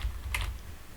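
Keys tapped on a computer keyboard while entering a slash command in the WordPress block editor, a short soft burst of clicks around the middle of a quiet second with low room hum beneath.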